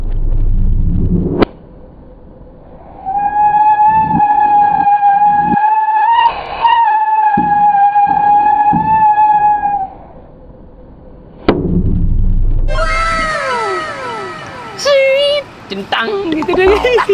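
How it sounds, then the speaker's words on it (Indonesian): A small rat firecracker set off inside a plastic water gallon at night, giving loud booming bursts at the start and near the end, with fizzing, crackling and a whistling tone between them, while people talk and shout. "Seperti apa dia kalau petasan tikus ini dimasukkan ke dalam galon?"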